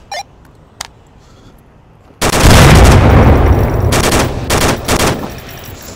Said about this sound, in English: Laying out some crazy fire.